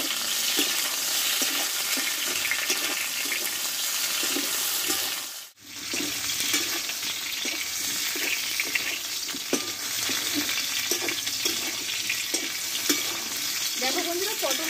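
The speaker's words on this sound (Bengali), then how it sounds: "তবু আমি 2 মিনিট মতো একটু কষিয়ে নেব।" Pointed gourd (potol) frying and being stirred in oil, a dense continuous sizzle with repeated scraping strokes, close and loud, with a brief cut to near silence partway through, no voices.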